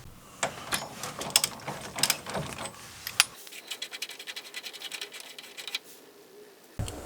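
A ratchet wrench working loose the pitman arm bolt on a G-body steering box, with rapid clicking ratchet strokes in uneven bursts, close and fairly crisp, followed by a brief pause and a final click.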